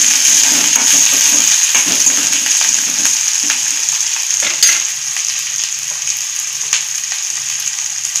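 Onion and green chillies sizzle and crackle steadily as they are stirred and fried in a pan for okra bhaji, a loud continuous hiss with intermittent scraping stirs and no talk.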